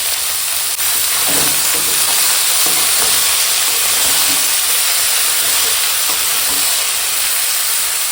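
Rohu fish head curry with turmeric, dried chilli powder and green chillies is sautéed in a pan, making a loud, steady hissing sizzle with occasional stirring scrapes close by.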